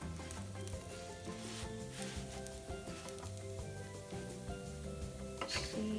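French toast sizzles and fries steadily in a hot pan just after being flipped, a close, continuous crackling hiss with small pops scattered through it.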